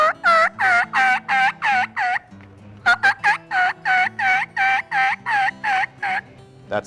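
Merriam's turkey yelps imitated on a diaphragm mouth call during a Black Hills, South Dakota hunt: a loud, close, steady run of sharp rhythmic yelps with one brief break midway before the cadence resumes.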